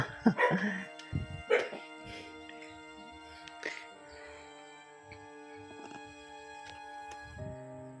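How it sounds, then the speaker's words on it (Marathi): A few scattered dog barks, moderately distant, over a quiet outdoor background with no talking, in a village in dense coastal forest in Ratnagiri district. "सर्व कुत्रीच कुत्री दिसत आहेत"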